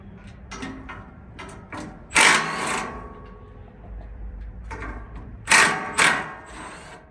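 A 15mm bolt on a cheap Chinese mini excavator cab is undone with a tool, giving close clicking and ratcheting bursts with two louder metallic clanks, and no talking.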